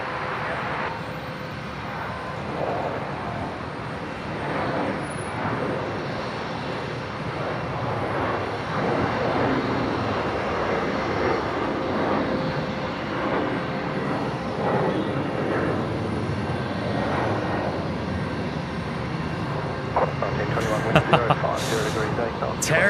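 A Qantas airliner takes off from runway 01 right at Brisbane International Airport, a steady, broad engine roar that holds for the whole stretch, with voices talking over it.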